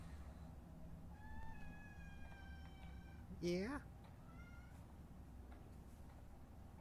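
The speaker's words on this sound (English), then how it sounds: "That's my cat." A house cat gives a single short meow midway through a quiet indoor stretch, with a person talking briefly nearby.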